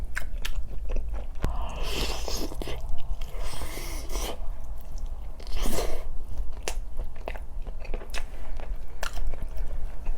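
Close-up biting and chewing of a spicy roasted Jamaican-style chicken drumstick, with crunchy bites and wet mastication repeating steadily throughout, no talking.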